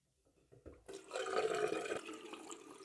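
Tap water running for wetting the face before a shave, a gentle rushing stream that starts abruptly after a few small clicks, close by and steady before easing slightly.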